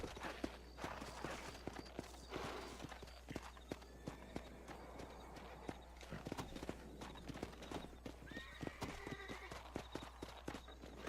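Horse hooves clip-clop steadily on the ground in the video game Red Dead Redemption, with an occasional neigh, near a farm barn at sunset, with other ambient noise around them.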